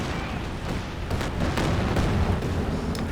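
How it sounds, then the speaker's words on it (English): Calliope rocket artillery barrage in Company of Heroes 2, a dense roll of booms and bursting impacts that thickens toward the end with no talking. "It's gone for a Calliope though. Quite a long range barrage."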